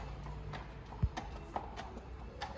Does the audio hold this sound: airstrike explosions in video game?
no